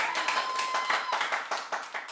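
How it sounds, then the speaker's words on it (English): An audience claps at a live event, a moderate burst of many hands applauding together, fairly close and steady before it begins to thin out. "there's some applause there"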